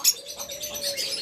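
A pair of opaline pet birds kept for sale chatters in quick, high, bright chirps, with a steady thin tone running underneath, all close and fairly loud.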